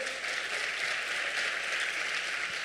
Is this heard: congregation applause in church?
yes